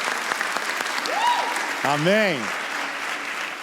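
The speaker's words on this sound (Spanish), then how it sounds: "Vamos a aplaudir al Señor entonces" Congregation clapping in a church service, a dense steady wash of applause running throughout, with a voice sustaining and sliding upward through a spoken word partway in.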